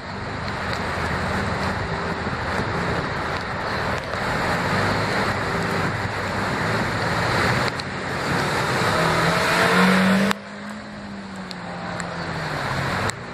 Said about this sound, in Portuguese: O carro passou, o motorista foi corajoso, conseguiu passar.